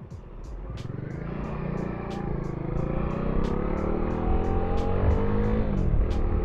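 A car turns left on a rainy road, its engine rumbling steadily and growing a little louder, with a regular ticking over the top and faint voices in the background.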